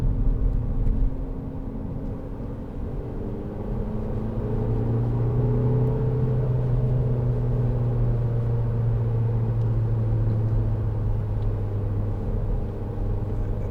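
SEAT Leon 2.0 TD FR diesel hatchback from 2010 cruising in third gear, a steady low engine drone and road rumble heard from inside the cabin, continuous and even throughout with no talking.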